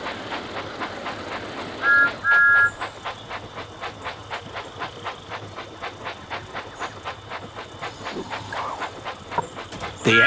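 A cartoon steam engine chugs along its tracks in a rapid, regular clickety-clack rhythm with hissing steam, a couple of whistle toots cutting in early and again near the end.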